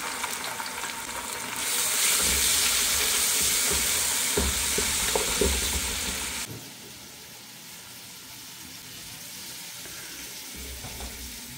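Onion, garam masala, ginger paste and garlic paste fry in a pan for khichuri, making a loud, steady sizzle with stirring that drops to a quieter hiss partway through.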